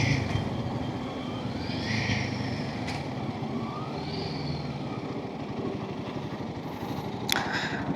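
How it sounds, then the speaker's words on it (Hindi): A Royal Enfield Himalayan 450 motorcycle accelerates through its gears on the road, with the engine note climbing and dropping between shifts over a steady rush of wind and rumble. "तो हम अभी हर गियर पे गाड़ी को 4000 आरपीएम तक लेके जाएंगे और कितना स्पीड जा रहा है गाड़ी वो चेक करेंगे"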